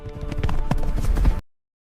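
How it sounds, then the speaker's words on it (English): Camargue horses in southern France: a close, brisk run of clip-clopping hooves that ends abruptly in silence after about a second and a half. "Untamed and beautiful, the Camargue horses are the soul of the wind in southern France"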